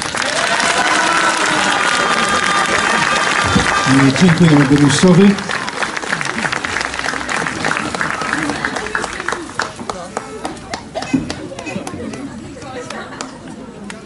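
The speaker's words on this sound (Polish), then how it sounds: "Duże brawa dla Basi" A crowd in the market square of Korfantów applauds loudly at a welcoming ceremony, the clapping thick for about five seconds before thinning out beneath a voice and scattered chatter.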